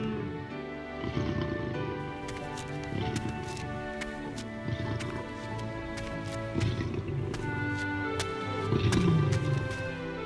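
Cartoon lions roaring inside a lions' den, a series of deep, rumbling growls and roars rising and falling over about ten seconds against a busy animated score.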